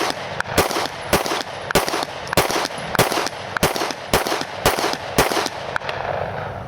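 A Smith & Wesson M&P 9c 9mm compact pistol fires about a dozen loud, sharp shots in a steady, fairly quick rhythm at close range. Each report cracks with a brief echo, and there is no talk.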